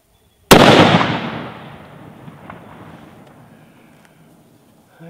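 A single rifle shot from a Bergara BA13 take-down rifle, firing a 150 grain SST bullet over 51.5 grains of Power Pro 2000 across a chronograph outdoors: one loud, sharp crack followed by a long, slowly fading echo.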